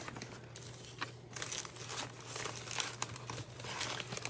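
Plastic bags crinkle and rustle continuously, close up, with dense bursts of crumpling and tearing-like crackles over a low steady hum; no one speaks.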